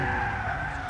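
A car braking hard in Gran Turismo 6, tires skidding with a sustained screech over engine rumble, loud and continuous for the whole moment.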